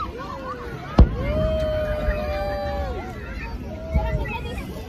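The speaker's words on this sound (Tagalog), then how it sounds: "Fireworks begin." Two sharp fireworks bangs pop a few seconds apart, somewhat distant, under lively crowd chatter and background murmur.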